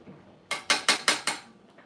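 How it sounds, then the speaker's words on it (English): A spoon scraping and knocking against a pot of cooking rice, five quick, evenly spaced clinks in a row, close and fairly loud, with no talking. "this rice still cooking, so I'm just stirring it so it don't stick"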